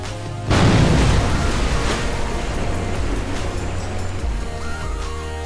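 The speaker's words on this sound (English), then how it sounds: "It's just gonna crash right into the ocean." A spent booster stage slams into the ocean in Kerbal Space Program, a sudden loud booming crash followed by a sustained rushing, surf-like roar that slowly settles.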